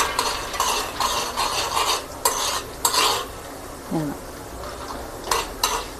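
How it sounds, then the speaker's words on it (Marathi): Dal dry-roasting in a pan for curry leaf chutney, a spoon scraping and stirring in repeated bursts over a faint sizzle, close and moderately loud, with no talk. "आता छान आपली डाळ आता खूप छान रीतीने भाजायला आलेली आहे"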